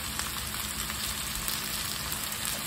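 Homemade corned beef hash frying in a pan on a home stove, a steady dense sizzle and crackle running without a break at moderate level, with no voices.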